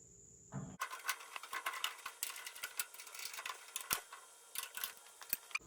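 Screws being tightened while attaching the side table of a Cuisinart A5 four-burner gas grill, heard as a faint, steady run of rapid mechanical ticking and clicking, with no voices.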